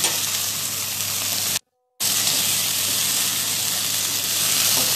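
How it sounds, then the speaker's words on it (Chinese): Prawn heads sear in a wok for a soy-sauce spicy prawn pasta, giving a loud, dense sizzle that cuts out briefly and then resumes steadily, with no speech. "我將個蝦頭咧煎一煎佢。"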